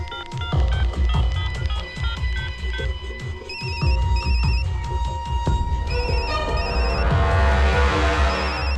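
A phone ringtone chimes in repeated bursts over busy background music, the electronic ring growing more prominent toward the end.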